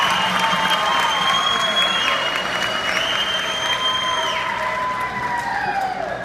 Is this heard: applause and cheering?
yes